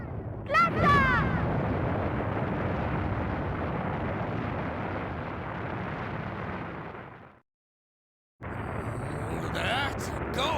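A rocket blasts off in the video game Mega Man Legends 2 with a huge, sustained roaring rumble that runs for several seconds. It cuts to silence, then returns with more noise and some voices.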